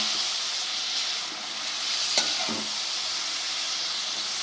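Garlic sizzles in a pan for chicken karahi, a steady hiss broken by a couple of quick stirring clinks.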